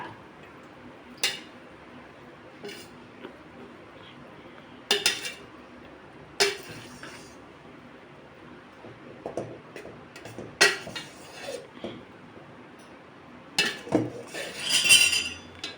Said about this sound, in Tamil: ஒரு கரண்டி எடுத்து இப்படி கிண்டி விடுங்க, கட்டி இல்லாமல்.